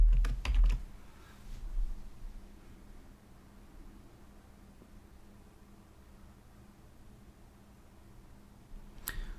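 Code being typed on a computer keyboard, heard close up with fast key clatter at the start and end and quieter, steady tapping in between.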